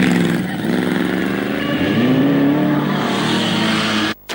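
A 1974 Group 1 racing car rounds the hairpin at Mallory Park, its engine a loud, close, rasping drone whose pitch climbs steadily under acceleration before a brief cut near the end.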